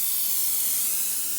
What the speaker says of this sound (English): I've got to spray the bottom of this pan. So I just have some canola oil spray